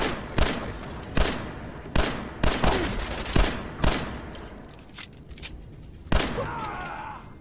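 Gunfire in the video game Fallout 4, a sequence of about nine sharp, loud shots at irregular spacing, each with a short decaying tail, the last followed by a brief whooshing effect.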